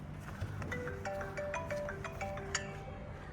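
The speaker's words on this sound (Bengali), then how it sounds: "ফোন বাজতেছে খালি" Phone ringtone playing faintly in the background, a tinkling repeated melodic tone heard from a distance, inside a 2022 Toyota Rush G, with low ambient noise and no clear speech.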